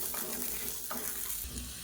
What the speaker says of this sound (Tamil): அந்த சூட்லேயே சேர்த்து நல்லா வதக்கிக்கலாம்.